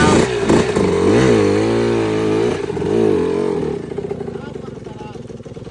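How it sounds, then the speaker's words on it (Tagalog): Several motorcycles lined up together rev their engines loudly, the pitch swelling and dipping over the first few seconds before settling into a rougher idle, with voices heard over the noise. "Guys, naka-line up na yung mga motor."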